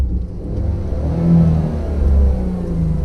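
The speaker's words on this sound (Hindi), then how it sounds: "देखो ये जो आइडल करती है वो तकरीबन 1000 आरपीएम पे आइडल कर रही है" A Tata Tiago 2020 with a 1.2-litre petrol engine idles with a steady low rumble, then swells briefly into a revving surge before settling again, close and loud with no talk.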